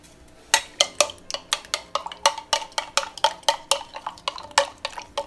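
Spoon clinking against a cup while matcha is stirred, a steady series of about twenty sharp, ringing taps in quick rhythm, close and clear with no talking.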